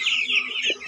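Chicks in a farm shed make a short burst of high-pitched clucking and cheeping, close and fairly loud.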